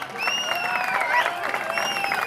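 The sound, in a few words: audience applause for an artist at an event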